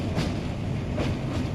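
A train rolls along the rails into a station just past the Narmada river bridge, a steady close rumble with faint rhythmic wheel clatter and no voices.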